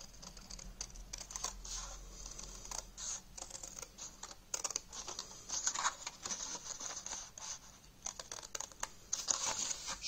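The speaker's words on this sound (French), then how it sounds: "je vais couper en biais pour pouvoir le retirer" Scissors snip and crinkle through paper, cut at an angle while making a gift-card holder, giving a quiet, close run of irregular rustles and small cuts with no talking.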